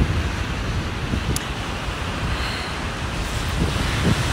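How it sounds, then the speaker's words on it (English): Ocean surf rolls in steadily at a windy shoreline on a cold day, with a continuous roar of waves and gusting wind buffeting the microphone, loud and close, with no talking. "I'm at the ocean."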